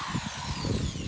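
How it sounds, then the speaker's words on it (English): A power drill whines steadily and close up, its pitch wavering slightly as the bit bores holes for installing an Erickson wheel chock and tie-downs, with no voices. "getting some drilling done."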